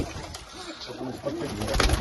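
Pigeons coo in a loft holding about 400 birds, Japanese breeds among them, soft overlapping throaty calls repeating close by amid general flock noise.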